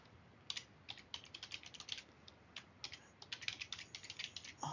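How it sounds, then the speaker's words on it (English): Quiet, close typing on a computer keyboard as a username is entered at a git prompt. The key taps are irregular and arrive in quick bursts with brief pauses, and no voice is heard. "I need to type in the username."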